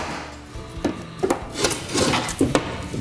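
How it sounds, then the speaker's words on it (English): A knife scores the back of a wall board during a drain move, giving a series of short, close scraping and rasping strokes at an uneven rhythm, with no talking. "and we're gonna score the back"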